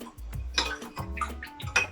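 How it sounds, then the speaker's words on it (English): A traditional Mexican drink is stirred in a container, giving close, irregular liquid sloshes and light clinks of a utensil against the sides, repeating several times over a couple of seconds. "So just stir, stir, stir, stir, stir."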